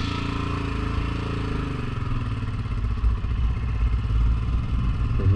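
A motorcycle pulling away from a fuel station after the tank is filled, its engine rumbling steadily close by and rising slightly as it rolls off, with a light mechanical clatter.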